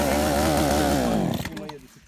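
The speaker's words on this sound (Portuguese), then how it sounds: "A motosserra não tá funcionando." Chainsaw struggling to run outdoors near a log, a loud sputtering engine that labours briefly then dies away in under two seconds, with a voice under it.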